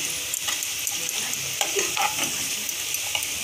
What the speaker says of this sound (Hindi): पियाज तेल गरम मसला पड़ी पियाज टिके नरम हो गलानी।